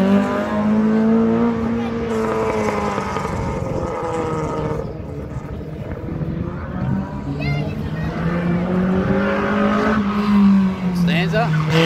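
An old Datsun Stanza race car running at a sprint event, its engine a steady sustained drone with shifting pitch throughout, heard alongside ongoing talk nearby.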